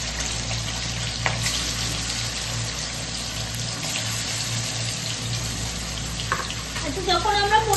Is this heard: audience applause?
no